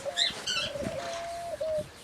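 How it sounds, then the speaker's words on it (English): Birds in an aviary built from overturned cotton trailers give soft cooing calls and a few bright chirps, close and moderately quiet, repeating several times over about two seconds with no talk. "the birds are really happy here"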